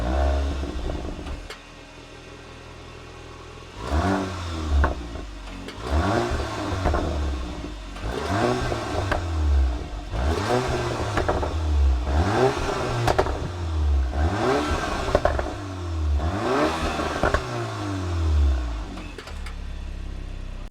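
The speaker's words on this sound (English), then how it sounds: "these quad tailpipes which are all blacked out, and they sound incredible" A 2024 Porsche Macan T revving through blacked-out quad tailpipes, close and loud: a series of about seven sharp throttle blips, each rising then falling, in steady rhythm after a brief idle.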